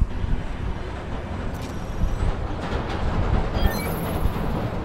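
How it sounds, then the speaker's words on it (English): A train rolls past on tracks in Spider-Man: Miles Morales, a steady rumbling clatter with a brief high metallic squeal near the end, heard alone. "Wait for the train to come by."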